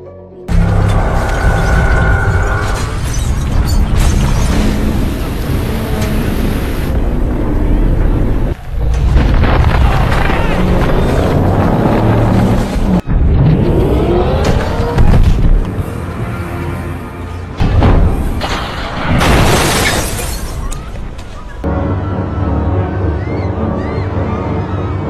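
From War of the Worlds, deep rumbling and booming shake the ground as the giant alien tripod machine emerges from beneath the street: loud, sustained low roars with heavy impacts and cracking bursts, shifting over a long stretch without talk.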